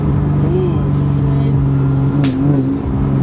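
A Nissan G35 engine hums loudly and steadily, its pitch rising and falling slightly as it is revved, close to the listener.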